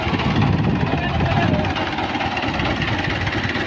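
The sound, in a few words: tractor engine, 640 model, running at a thresher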